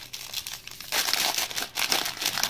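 Plastic packaging around a face mask crinkles and rustles close up in a few quick, crackling bursts.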